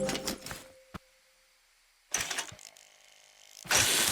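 Hydraulics raising a low rider car in the game Scrap Mechanic, heard as short mechanical whirring bursts with a faint click in between, separated by near silence, and ending on a louder noisy burst.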